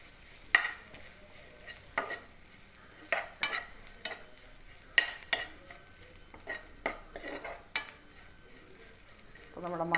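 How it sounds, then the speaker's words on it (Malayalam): Masala powder being stirred into a pan of sprouted chickpea fry, a faint sizzle under repeated scraping strokes of a spoon against the pan at an uneven pace, close and quiet, no talking. "ഇനി ഇത് നമുക്ക് നന്നായിട്ടൊന്ന് ഇളക്കി യോജിപ്പിച്ച് റെഡിയാക്കി എടുക്കാം"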